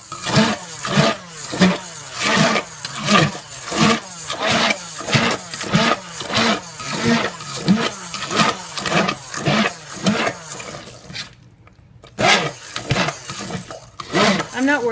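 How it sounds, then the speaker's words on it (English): A small hand mixer blends cauliflower pie ingredients with garlic powder and onion powder, a steady motor whir that pulses rhythmically as the beaters work the mixture, briefly stopping near the end, heard close under a speaking voice. "I'm just going to use my little hand mixer to mix it all up"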